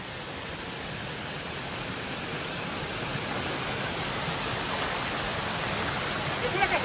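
A constant broadband rush of a waterfall, steady and fairly loud with no pauses, swelling slightly toward the end.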